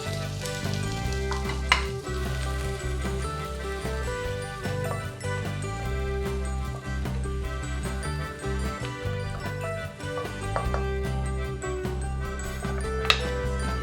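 Sliced onion sautés in a pan for Malayali chicken kanthari, a steady sizzle with occasional stirring scrapes and light clinks running continuously at moderate level.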